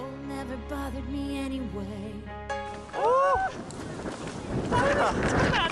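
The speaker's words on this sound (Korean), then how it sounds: "아, 바람 너무 세." Strong wind on the snowy winter summit of Deogyusan, one of Korea's highest mountains, roars and buffets the microphone in loud gusts after a stretch of music fades, with a voice briefly heard over it.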